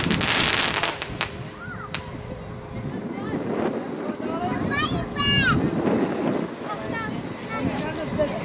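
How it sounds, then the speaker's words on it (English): Fireworks going off over an allotment on Bonfire Night, 5 November, with sharp pops and crackles early, then whistling rockets rising and bursting at a distance amid wind noise while people chat nearby. "there's another firework going about to go up."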